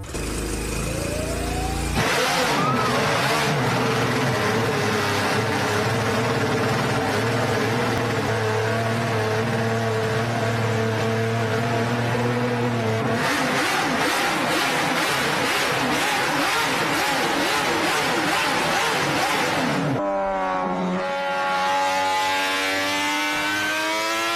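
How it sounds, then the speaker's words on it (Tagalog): A 55-year-old Honda RC166 250cc four-stroke inline-six motorcycle engine revs hard and loud, its shrill wail climbing and holding through repeated blips, then dropping away before a final rising run. "Coming from a 55-year-old 250cc 4-stroke inline 6 engine"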